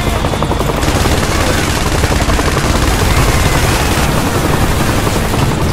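Machine-gun fire from a helicopter in the ISDefense game pours out as a loud, steady stream of rapid shots over a throbbing rotor hum, with scattered booms in the background and no break in the barrage.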